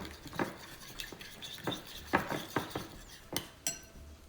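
A spoon stirs chicken pulao with sour cream in a pot, irregular scraping clinks and knocks of metal against cookware, close and fairly quiet.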